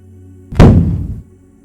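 A single loud, heavy thud lands close by, a deep impact that rings briefly and fades within half a second against a low steady hum.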